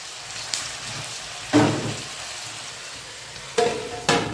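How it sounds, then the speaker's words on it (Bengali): Vegetables for a Chinese vegetable dish sizzle steadily in a pan, a continuous frying hiss broken by several sharp louder bursts of crackling as food is stirred. "এখন কিছুক্ষণ এটা এভাবে ভেজে নেব"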